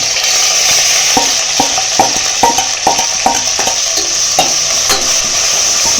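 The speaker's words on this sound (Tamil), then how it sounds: "ஏலக்காய் வெடிக்கிறது பொரிஞ்சதுக்கப்புறம் நம்ம இதில் கட் பண்ணி வச்சுருக்கிற வெங்காயத்தை சேர்த்துக்கலாம்" Onions fry in hot oil with cardamom for vegetable biryani, a loud steady sizzle punctuated by a regular series of scraping stirs and small pops.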